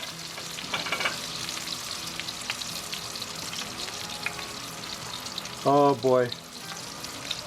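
Steady sizzling of an aged Wagyu ribeye steak searing in a hot pan, close by, with a brief spoken exclamation near the end.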